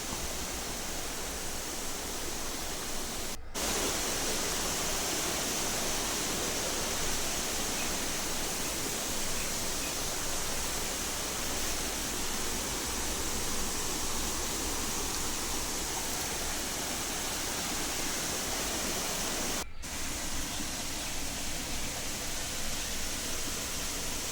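The Aaluru waterfall near Pachipenta roars as a constant, dense hiss of falling water, steady and fairly distant, with no speech and two brief cuts in the sound.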